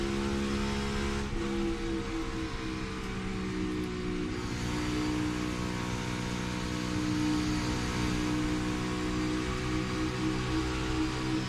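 Brad Keselowski's number 6 NASCAR Cup car races in the 2023 Hollywood Casino 400, its V8 engine droning loud and close with a steady, buzzing roar as the driver lifts briefly and then goes back to full throttle.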